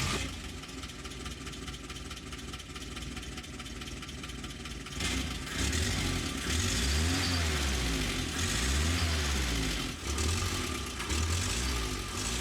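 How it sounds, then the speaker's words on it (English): An old restored fire truck's engine sits quiet, then fires up halfway through into a loud, steady rumble with a few rising revs. "the engine finally gives in and fires up"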